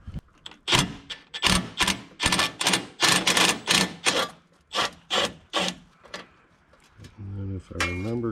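Nuts come off a plate on a Kioti tractor in a quick series of rhythmic rasping, ratcheting bursts up close, with a short voice near the end.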